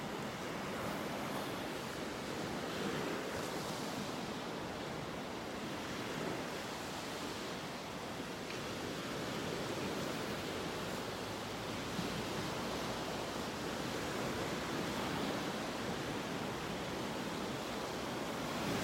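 Ocean surf breaks on a beach at North Naples, Florida, on a morning walk, a steady broadband wash of waves with some wind rumble against the microphone and no talking.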